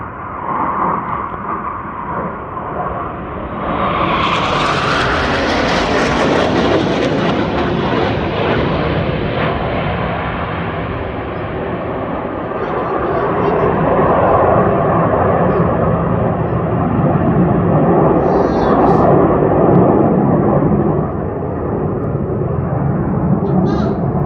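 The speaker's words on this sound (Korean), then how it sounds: "이 비행기는 경주 비행기야." A racing plane flies past at a Swiss Air Force air show in Grindelwald, its loud broadband roar swelling after a few seconds and holding steady as it passes, while a child and an adult talk nearby.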